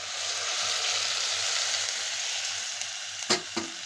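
Hot water pours into rice frying in a pan for soya chunks biryani, giving a steady loud sizzle with a few sharp bursts near the end; no voices.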